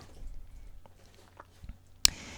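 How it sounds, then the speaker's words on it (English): A dog gnaws on a small bone indoors close by, with faint soft squishy chewing sounds followed by one sharper click near the end. No one speaks. "It's just my dog chewing on her little bone here while I record this."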